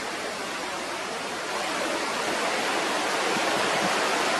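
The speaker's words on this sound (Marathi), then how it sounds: "कोयना नगरमधील ओझरडे धबधबा हा देखील प्रवाहित झालेला आहे" The Ozarde waterfall at Koyna Nagar in Satara's ghat region, swollen by heavy monsoon rain, pours out a steady, dense roar of rushing water that swells slightly and continues without a break.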